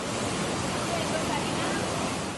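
Rushing floodwater torrent after torrential rain in southeastern Spain, a loud, dense, continuous roar of water that fills the whole stretch, with some wind buffeting and no distinct breaks.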